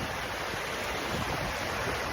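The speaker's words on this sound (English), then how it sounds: "There's the waterfall here." Rushing water from a creek waterfall on a winter backpacking trip in the Spruce Knob and Seneca Creek area, a steady broadband roar heard close and alone.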